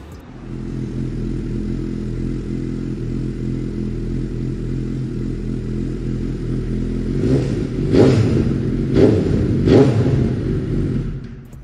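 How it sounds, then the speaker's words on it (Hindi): A superbike engine, a used performance motorcycle for sale in Delhi NCR, idles loudly with a steady low rumble, then gets three sharp revs that rise and fall close up. Nobody speaks. "अब सुनते हैं इसकी आवाज़, स्टार्ट करते हैं बाइक को."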